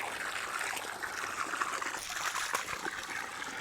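Fresh water poured into an animal's water container outdoors in extreme heat, a steady trickling splash running continuously and fairly close, with no voices.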